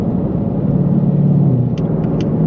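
A Ford Mustang engine holds a deep, steady low rumble up close, loud and continuous with no talking.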